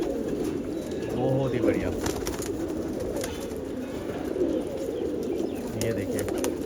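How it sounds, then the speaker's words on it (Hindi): Pigeons, among them a Zardband, coo in low, repeated rolling phrases close by, with someone talking over the birds. "एक से एक नायाब और बेहतरीन कबूतर है।"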